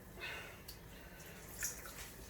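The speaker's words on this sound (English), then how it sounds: "Just gotta rinse it a bit more" Dyed yarn being rinsed in water, giving soft, faint splashes and drips close by, with no voices.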